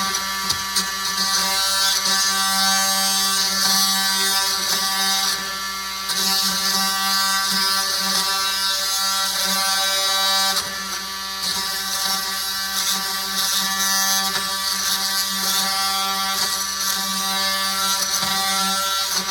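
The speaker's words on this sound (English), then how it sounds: "we're gonna cut the popsicle sticks off so we can cock it over" A power tool cuts off popsicle sticks at a newly installed baseboard with a loud, steady buzzing whine that runs almost nonstop, dipping briefly twice.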